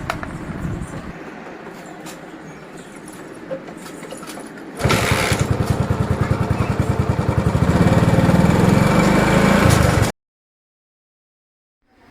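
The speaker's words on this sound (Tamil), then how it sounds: "நெக்ஸ்ட்டு நம்ம வண்டியை ஸ்டார்ட் பண்ணி பார்க்கலாம்." A TVS XL moped engine catches after a few quiet seconds and runs with a rapid, loud putter that grows stronger as it is revved, then cuts off abruptly.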